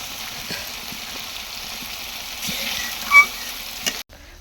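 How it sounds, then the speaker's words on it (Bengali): Chicken curry masala with tomato frying in a pan gives a steady, close sizzle throughout, with one brief louder stir-like scrape near the end. "টমেটোটা দিয়ে দেওয়ার পরে আরেকটুখানি কষান করবে না মা?"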